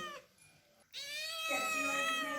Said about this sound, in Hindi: ये है मेरी क्यूट सी कैट